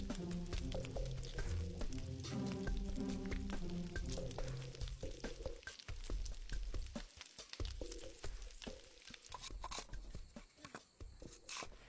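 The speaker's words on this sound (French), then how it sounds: "puis on fait frire dans l'huile douce" Lotus root rolls coated in batter deep-frying in oil, a steady dense sizzle and bubbling that runs continuously, thinning slightly toward the end.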